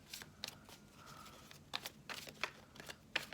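Tarot cards being shuffled by hand during a reading, giving a series of short papery riffles and flicks at an uneven rhythm, close and moderately loud, with no voices.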